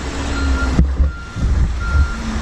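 Reversing alarm of a dump truck beeping steadily in a repeating pattern over a rumbling diesel engine, with a sharp thud partway through, in wet, rainy conditions.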